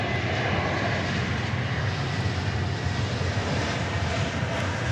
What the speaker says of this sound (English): It's Frontier flight coming in from Phoenix. It's an Airbus A321neo.